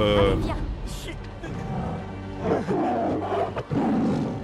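A tiger from The Walking Dead TV series lets out a loud, close, drawn-out roar with growling texture, followed by more rumbling snarls and roars.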